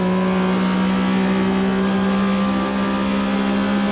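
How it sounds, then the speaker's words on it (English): A Porsche 911 RSR 3.0 in the AMS2 racing game on the 1970s Red Bull Ring, engine held at a loud, steady high-rev drone with strong harmonic whine, continuous throughout with no talk. "Really revving the car all the way out"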